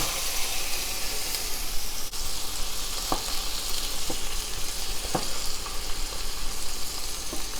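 Shrimp frying in a hot pan for Szechuan shrimp, a steady close sizzle with a few sharp pops and spatters, no talking.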